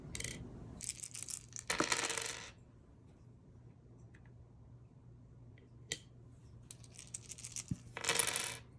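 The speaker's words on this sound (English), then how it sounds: "Start your turn by rolling the dice and moving one of your pieces along your path" Dice for the Royal Game of Ur rattle and clatter on a board in two short bursts of sharp clicks, with a few isolated taps between them and a final burst of rattling, close and crisp.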